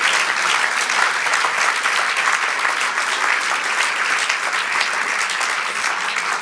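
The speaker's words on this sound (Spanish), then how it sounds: "Dale un aplauso" Dense, loud applause from a church congregation during a sermon, an unbroken wash of clapping that holds steady throughout without any voices rising above it.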